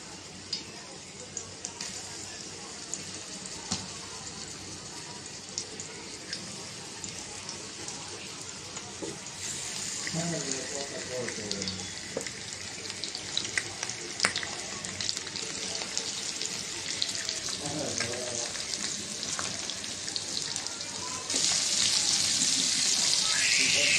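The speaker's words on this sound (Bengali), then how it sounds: "তেলটা গরম হয়ে গেছে। মাছটা দিয়ে দিলাম।" Young hilsa (jatka ilish) fish frying in hot oil in a home kitchen, giving a steady broadband sizzle and hiss throughout that grows louder and brighter near the end, with faint clinks of utensils.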